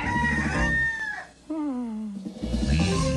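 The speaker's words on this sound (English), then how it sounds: "Kellogg's Corn Flakes presents Cornelius Rooster." A cartoon rooster crows once in a 1993 Kellogg's Corn Flakes commercial, a drawn-out stretched call, set between bursts of bright music at the start and end.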